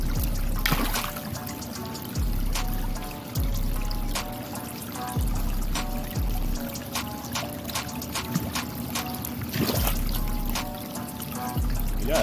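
Water is poured during an aquarium tank water change, a steady splashing trickle with repeated surges as pours start and stop, close and fairly loud without talk.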